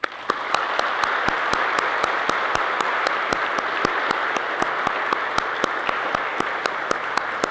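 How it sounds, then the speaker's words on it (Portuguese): A church congregation in Balneário Camboriú applauds to honour women, a steady, evenly spread wash of clapping at moderate loudness with a few sharper claps standing out, continuing throughout. "Vamos reverenciar essas mulheres, as mulheres de nossas vidas, nossos lares, nossas mães, esposas, filhas, nossas netas, com uma salva de palmas"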